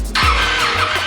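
Ducati Panigale motorcycle engine starting: a short starter whir, then the engine catching and settling into a loud, close, rumbling idle.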